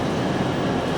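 An LNER Azuma train passes at a railway station, giving off a steady, loud rumbling rush of wheels and motion that fills the whole moment.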